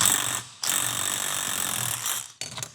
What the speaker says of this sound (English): Now we're gonna hold this, and we're gonna drill this down.